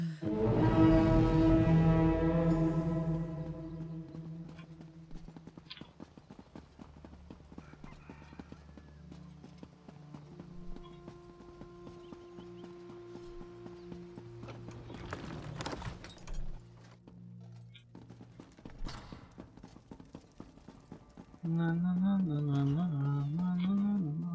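A horse clip-clops along at speed in The Elder Scrolls Online, its hoofbeats rapid and loud, with whinnies and snorts and other game sounds mixed in.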